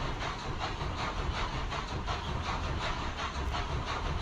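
A fast-moving train in the video game Poppy Playtime Chapter 2 gives a constant loud roaring rumble and hiss, with a faint rhythmic rattle pulsing underneath throughout.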